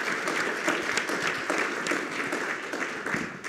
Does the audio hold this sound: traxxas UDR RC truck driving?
no